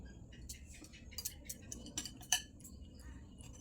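Beaten egg gets whisked into a flour and semolina batter for a Christmas cake, soft irregular clinks and taps of a utensil against the bowl, quiet and close.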